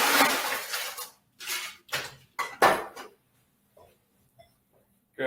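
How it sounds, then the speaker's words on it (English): Ice cubes tumble into a tiki glass while a summer cocktail is made, giving several loud, close clattering bursts in quick succession, then a few faint settling clinks and silence, with no talk. "fill it up full of ice."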